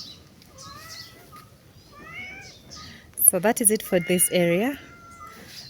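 A person speaks quietly in a small backyard farm garden, then a cat lets out several loud, insistent meows in quick succession, close by, with a few faint bird chirps earlier.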